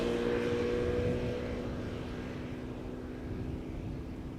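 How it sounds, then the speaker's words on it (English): A KLM Airbus A330-200 arriving from Bonaire approaches Amsterdam Schiphol with a steady, moderately loud engine drone and a faint tonal whine, slowly easing in level, with no talk. "Making its way over here is KLM Flight 767, an A330-200 arriving from Bonaire"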